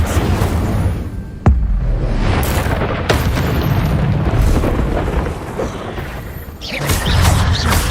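Spells cast in Hogwarts Legacy, including the Incendio fire spell: a run of sharp booming blasts and whooshes over a constant rumbling game soundscape, loud and close, with no talk.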